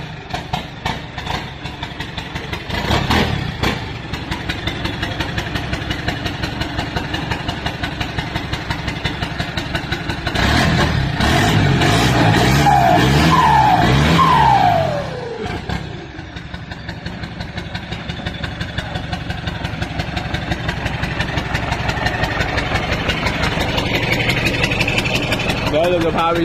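Motorcycle engine running with no exhaust pipe fitted, a loud, raw continuous idle with a brief rev in the middle, heard close with no talk.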